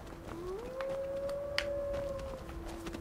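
A wolf in the video game Skyrim lets out a single drawn-out howl that rises and then holds a steady pitch for about two seconds, fairly clear over quiet game ambience.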